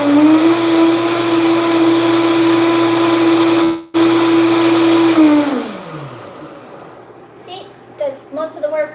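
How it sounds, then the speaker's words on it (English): A blender whirs steadily with dish soap and water inside, a loud sustained motor drone that cuts out briefly, resumes, then winds down, followed by faint clinks and a voice in the quiet. "So you got your dish soap and your water in your blender, and you blend it up."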